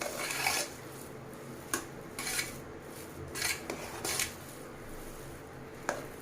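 Cooked ven pongal being mashed in a pot with a metal spoon, intermittent scraping and clinking strokes against the pot in short irregular bursts, close and moderately loud.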